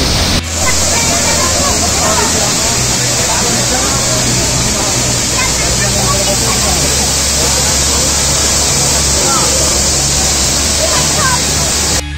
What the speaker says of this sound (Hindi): बहुत जोर रे पानी पड़ू।